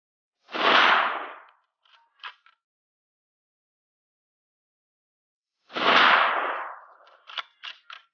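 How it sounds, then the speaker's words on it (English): Two loud gunshots from a Savage Axis XP .308 budget rifle, several seconds apart, each a sharp blast decaying quickly, followed by faint metallic pings of bullets striking distant steel targets. "The group we just shot there makes you wonder why you'd buy an expensive 308 rifle."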